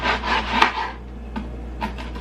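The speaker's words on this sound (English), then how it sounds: "you can get those teeth in before you start sawing" A serrated knife saws through baked biscotti in a few short, dry rasping strokes, close and crisp, with brief crunching scrapes against the hard cookie.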